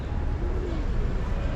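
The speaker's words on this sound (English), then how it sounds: "A lot of birds are here" Pigeons or doves coo inside a large church in Addis Ababa, a soft low warbling call over a busy, rumbling background.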